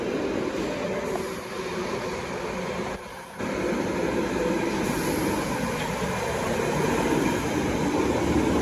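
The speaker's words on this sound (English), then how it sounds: "The train." A metro train in Sweden rumbles loudly and steadily through a tunnel, with a brief dip in the roar partway through, then the heavy drone continues.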